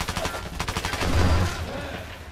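Rapid automatic gunfire in the Fallout 4 video game, a fast evenly spaced string of loud shots followed by a deeper rumbling blast, with ambient game noise continuing after.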